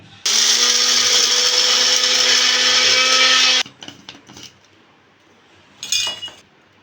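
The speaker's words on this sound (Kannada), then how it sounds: "ಮೊದಲಿಗೆ ಇಲ್ಲಿ ನಾನು ಬ್ಲೆಂಡರ್ಗೆ ಎರಡು ಸ್ಪೂನು ಹುರುಗಡ್ಲೆ ತೊಗೊಂಡಿದ್ದೀನಿ ಅದನ್ನು ಪೌಡ್ರ್ ಮಾಡ್ಕೊಬರ್ತೀನಿ" A blender loudly grinds roasted gram into powder in one steady burst of about three seconds, followed by quieter clinks and handling of the jar.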